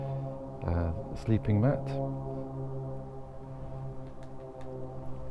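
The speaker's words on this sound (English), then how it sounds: "Have to excuse the plane going overhead." A plane passes overhead at an outdoor motorcycle campsite, a steady low drone with a layered tonal hum that holds throughout, while someone speaks briefly over it.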